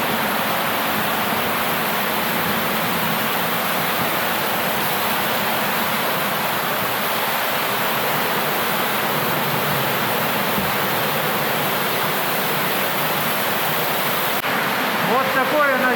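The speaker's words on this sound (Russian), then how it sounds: "15-метровый водопад." A 15-metre waterfall inside a lake grotto of a cave, fed by a stream, roars as a steady, loud broadband rush of falling water that holds unchanged throughout, with a faint voice briefly under it near the end.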